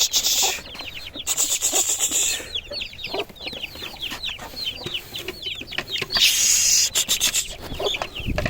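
Young Aseel roosters peck and eat grain (chana) together, giving dense, quick rasping pecks and soft clucks that run steadily and close throughout, with a few louder scratchy bursts.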